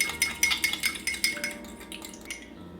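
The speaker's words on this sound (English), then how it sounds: "Mix the egg and the vinegar together." A fork clinks against a bowl while whisking an egg with cider vinegar, giving a quick run of close, light metallic taps that thin out and stop near the end.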